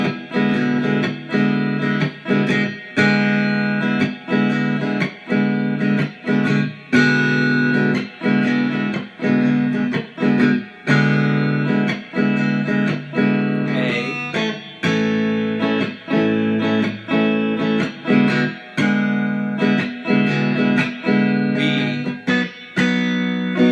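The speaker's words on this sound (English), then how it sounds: "So all together, the whole chord progression for the verse should sound like this." An electric guitar strums open chords of a verse progression, steady rhythmic strokes with a slightly driven, effected tone, played alone and close without any voice.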